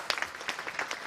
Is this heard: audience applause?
yes